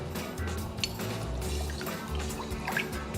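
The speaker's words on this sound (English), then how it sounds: "Now I'm gonna add some rice vinegar." Rice vinegar is poured into a stir-fry sauce for pork noodles in peanut sauce, making a short, soft liquid trickle and dribble close by.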